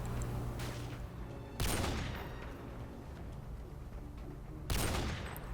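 Sniper and rifle fire in Modern Warfare 2 Spec Ops on the Estate Takedown mission, with two loud gunshot blasts a few seconds apart over a constant rumble of distant battle noise.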